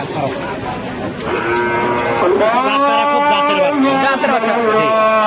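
An Australian cross cow at a busy cattle market in Pabna gives several long, loud moos close by, layered over a steady crowd murmur with people talking.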